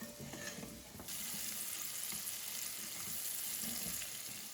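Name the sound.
onions sautéing in a pan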